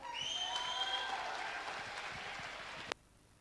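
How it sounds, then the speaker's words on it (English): Applause from an auditorium audience at a convention centre, thick clapping with some high tonal sound at first, fading gradually before cutting off sharply after a final loud click, followed by near silence. "Please give them a big round of applause."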